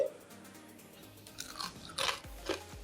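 Crisp crunching bites into a fried veg mix bonda, a few sharp crackly bursts followed by chewing, close to the ear with no talking.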